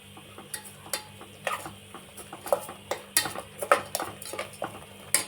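Coriander powder, spices and salt are sautéed in a pan for mutton curry, with a steady stream of spoon scrapes and metallic clinks against the pan over a faint sizzle, no talking.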